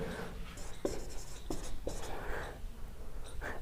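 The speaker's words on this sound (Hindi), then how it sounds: "तो देखो लिख रहा हूँ मैं" Pen writing on paper during an English exam lesson, a steady faint scratching with a few sharper strokes, close and continuous throughout.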